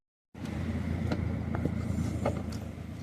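A car engine idles and warms up before moving forward at a wedding venue, a low steady rumble close by with a few faint clicks and knocks over it, and no talk.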